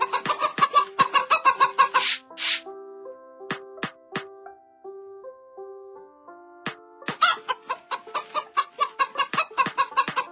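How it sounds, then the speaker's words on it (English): A hen clucks in quick, rhythmic bursts at the start and end. Simple melodic music tones play in the quieter middle stretch, and no one speaks. "Hen nests in a pen."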